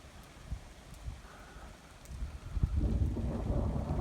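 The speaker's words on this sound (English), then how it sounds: "But the thunder is increased." Thunder rumbling low beneath steady rain during a rainstorm, growing louder and fuller in the second half, close and heavy.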